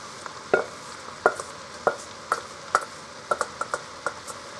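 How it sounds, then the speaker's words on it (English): Vegetables stirred into a pot of browned hamburger meat, with a spoon clacking against the pot in a loose rhythm of about a dozen distinct knocks over a soft sizzle. "I am going to dump all my veggies in there, because I'm just going to stir them around"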